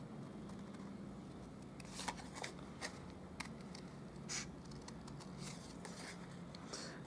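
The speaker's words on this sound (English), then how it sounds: "we'll just fussy cut this flower" Scissors snip around a paper flower being fussy cut for a handmade Stampin' Up! thank-you card, giving soft, scattered clicks and rustles that are fairly faint against a steady background hiss.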